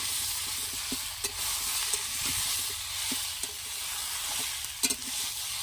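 Vegetable curry cooking in a pot is stirred, giving a steady hissing sizzle broken by scattered scraping and knocking taps of the spoon, moderately close; no speech.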